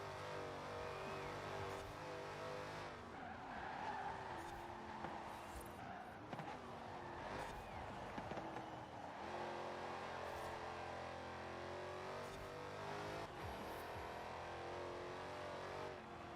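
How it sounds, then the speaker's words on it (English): Car engine with a Whipple supercharger drawing in air and building boost on a track, a continuous close whine and roar that rises and shifts in pitch, with a few sharp transient bursts, no talk. "Whipple supercharger sucking in that air and turning it into boost"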